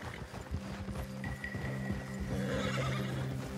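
Horses in Red Dead Redemption 2 give a clear neigh while hooves clop in an uneven rhythm, close by and fairly loud, with no one talking.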